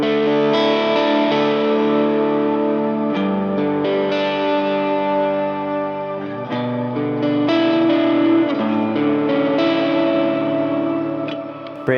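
Electric guitar routed through channel B of a worship pedal board for a shimmer effect, producing lush, washy sustained chords with echo and reverb that swell and ring steadily throughout.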